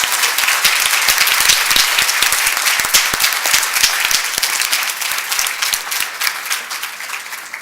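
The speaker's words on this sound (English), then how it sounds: "How about a big round of applause?" A big round of audience applause at a spelling bee, dense crowd clapping with sharp individual claps standing out, sustained and loud before slowly easing.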